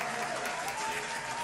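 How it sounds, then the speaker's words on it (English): A round of applause at a live African beauty and business show, a steady wash of clapping from a small crowd, moderately quiet and continuous throughout the short stretch with no other sounds over it. "I'm going to give her a round of a freaking applause."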